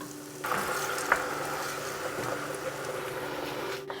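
Red wine is poured into a hot pan with garlic and browned bits, setting off a sudden, steady hiss and bubbling that holds close and loud until it cuts off near the end, with no talking.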